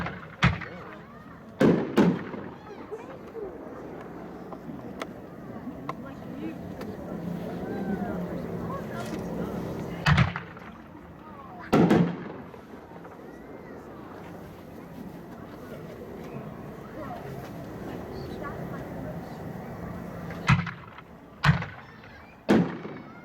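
Fireworks at a consumer demo show, with several loud booming bursts spread through a continuous crackling, sizzling rumble, fairly near, and people talking underneath.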